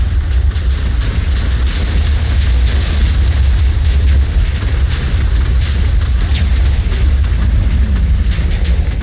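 A TNT explosion in the video game Minecraft sounds as a loud, continuous low rumbling boom with a dense crackle of debris spread over the whole stretch, with no voices over it.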